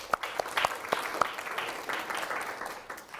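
Classroom applause in a university statistics lecture hall, a brief burst of scattered clapping from students that starts with a few sharp claps and settles into a steady, moderately loud patter.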